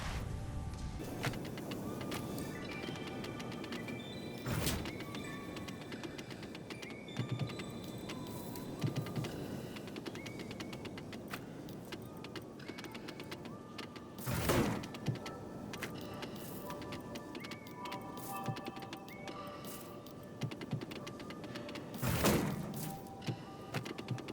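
Constructors in the factory game Satisfactory power up and start making rotors, giving a steady mechanical hum with repeated clicks and a few louder clunks, no talking.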